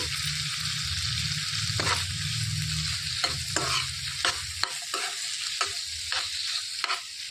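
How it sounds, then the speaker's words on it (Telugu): Ridge gourd and coconut chutney is stirred in a pan: a spoon scrapes repeatedly at an irregular rhythm over a close, steady sizzle. The low frying hum drops out partway through while the scraping strokes carry on. "ఇప్పుడు ఇందులోనికి కొబ్బరి అనేది చేర్చుకోవాలి ఒక్కసారి కలిపేసుకొని స్టవ్ ఆఫ్ చేసుకోవటమే"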